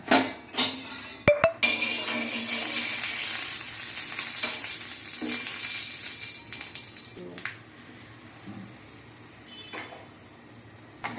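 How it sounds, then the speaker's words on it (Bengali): Paratha frying in ghee in a home kitchen, a steady sizzle lasting several seconds after a few sharp clinks of utensils and pans, then fading to quiet with light kitchen clatter. "একটা একটা করে ঘিয়ে ভাজা পরোটা ভেজে নেব।"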